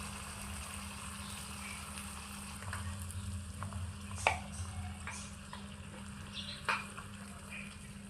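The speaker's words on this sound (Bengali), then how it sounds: "আমি মাংসগুলোকে ভালোভাবে ভেজে নেব।" Meat fries in a tiny miniature pan in a village-style cooking setup, a soft continuous hiss with a few faint clicks and taps, quiet overall.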